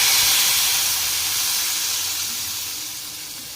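Milk poured into vermicelli roasting in ghee in a pan, a loud steady hiss and sizzle that slowly fades as it settles.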